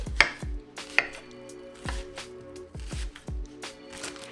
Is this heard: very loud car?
no